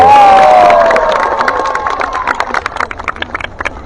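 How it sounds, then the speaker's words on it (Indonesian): A large crowd at a political event in Surabaya, Indonesia, cheers and claps, starting with a held whistle-like tone and then breaking into loud, dense rounds of applause with scattered shouts. "Tepuk tangan dulu buat Pak Usul."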